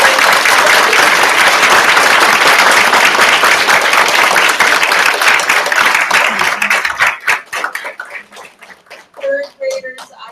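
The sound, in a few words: audience applause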